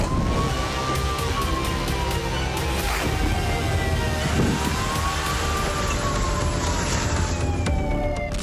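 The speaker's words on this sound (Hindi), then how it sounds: "शहरों में सायरन बज रहे हैं।" Air raid sirens wail in long rising and falling sweeps over a loud, constant wash of city and traffic noise during the Russia-Ukraine war, with several overlapping tones.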